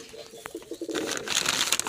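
Pigeons in a backyard loft give soft low coos close by, with rustling and brighter chirping or fluttering noise building toward the end.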